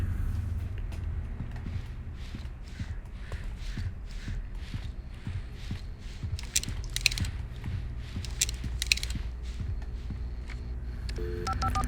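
A telephone dialed in the video game Alan Wake Remastered: a run of short, evenly spaced dialing tones and clicks over a low mechanical hum, with faint shuffling movement and no talk.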